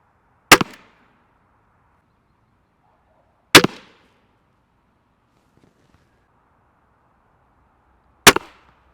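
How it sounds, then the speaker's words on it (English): Tenpoint TRX 515 crossbow fired outdoors during a speed test: three sharp, loud, isolated cracks spaced several seconds apart, each with a brief ringing decay, against near silence. "Let's go see how this thing performs. Out here now, we got some room, we can shoot a little bit. So first up, speed test."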